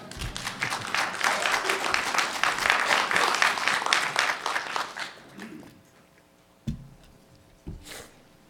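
Audience applause after a Drupal conference talk in Nashville, a dense round of clapping lasting about five seconds, then dying away to a quiet room with a couple of isolated thumps.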